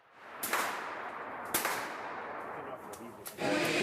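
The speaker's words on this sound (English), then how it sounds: "Friday night is pizza and target shooting." Gunshots from target shooting at a Canadian gun club ring out as sharp reports, three or four spaced shots over a steady background of indoor crowd noise and murmur.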